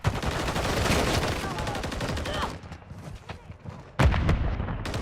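Grenade explosion amid combat in the video game Call of Duty Modern Warfare 3: dense rattling gunfire and rumbling blasts, easing briefly before a sudden loud booming detonation near the end, with faint voices mixed in.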